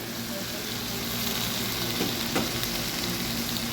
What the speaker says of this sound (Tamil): நல்ல ஒரு கிண்டு கிண்டியிருக்காங்க